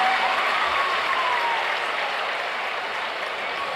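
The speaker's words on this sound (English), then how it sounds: "Let's give him a big round of applause, ladies and gentlemen." Loud, sustained applause from a large audience at a strongman car leg press event, a dense wash of clapping that fades slightly toward the end.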